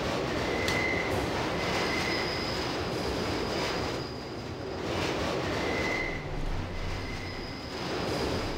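A subway train in the video game Deus Ex rumbles steadily close by, with wheels squealing on and off in thin, high whines over the continuous rolling noise.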